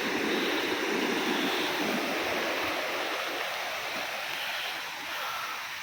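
Sea waves wash against the temple wall at Tiruchendur on the shore, a continuous loud broadband surf roar with no pauses and no voices.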